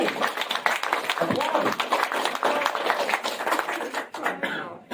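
An audience at a Raleigh mayoral campaign event applauds, a dense, sustained burst of clapping close by, mixed with voices and a cough, fading briefly near the end.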